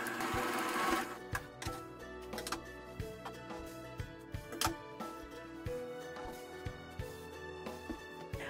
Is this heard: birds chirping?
no